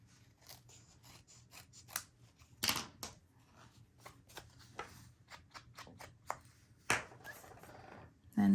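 Scissors trim paper in a quiet room, making a run of soft, crisp snips at an uneven pace, with two sharper, louder cuts standing out.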